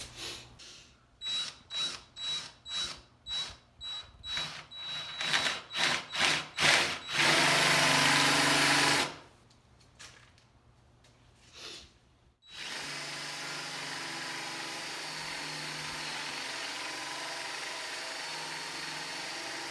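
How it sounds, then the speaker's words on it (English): A power drill bores a center hole through wooden shelf boards in a run of short rhythmic bursts, then grinds steadily, stops briefly, and resumes a long continuous drilling whir. "So when I drill my center hole"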